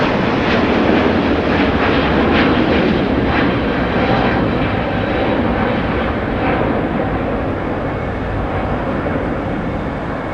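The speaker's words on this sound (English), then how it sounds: "A350 1000 off to Tokyo Haneda." Japan Airlines Airbus A350-1000 jet taking off from Los Angeles bound for Tokyo Haneda, a loud, continuous broadband engine roar that holds strong throughout and eases only slightly toward the end.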